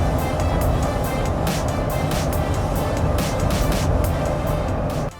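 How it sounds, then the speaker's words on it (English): A 2020 Jeep Gladiator driving at night, heard from inside as a loud, constant rush of engine and road noise that holds steady and then cuts off abruptly at the end. "this has been a really quick night drive with Jeep Gladiator"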